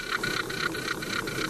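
Spider percussion sounds recorded in nature: a steady, fine rapid buzzing patter with regular pulsing bursts, fairly close and uniform, heard alone with no voices.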